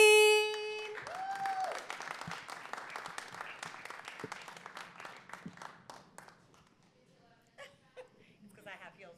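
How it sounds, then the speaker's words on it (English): Audience applause welcoming a poet to the stage at a spoken-word event, a dense clatter of clapping with scattered laughter that gradually thins out under murmuring voices. "Please give a round of applause for returning poet"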